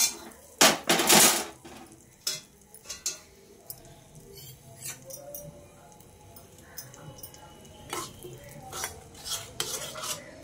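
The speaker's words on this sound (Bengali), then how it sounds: "আমি একটা চামচ দিয়ে মশলাগুলোকে মাখিয়ে নিচ্ছি।" A spoon scrapes and clinks against a metal pan in uneven bursts while mixing spices in oil, louder at first, then quieter intermittent stirring and taps.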